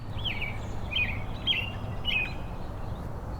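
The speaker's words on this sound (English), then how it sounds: "Now here's the sound of American robin." American robin song played back from a phone app in the woods: a few short, clear whistled phrases repeated at a steady pace, moderately loud over a low, steady outdoor rumble.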